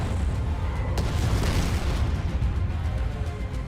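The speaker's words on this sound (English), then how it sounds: "Oh, there's the bombardments." Bombardment explosions in a video game around a Colossus tank, a continuous heavy rumble of booms and blasts filling the scene, loud and dense with one sharper crack early on.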